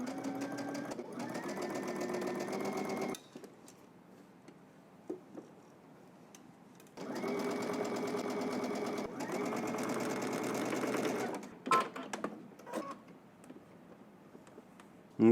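A home sewing machine stitches a skirt seam and side slit in two long, steady whirring runs separated by a quiet pause, close and loud, with a few clicks and handling noises near the end.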